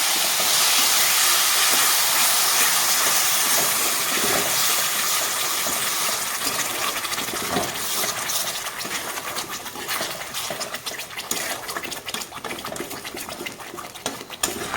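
Soaked spice paste and a little water hitting a hot pan for paneer gobindo ghonto, a loud steamy hiss that starts dense, then breaks into crackling, spitting bursts as it settles.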